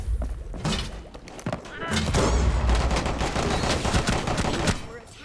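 Rapid bursts of gunfire in a multiplayer shooter video game, loud and dense, with sharp cracks, thuds and impacts packed together over several seconds while players talk and call out over the action.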